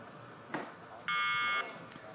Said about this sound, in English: And there the buzzer goes.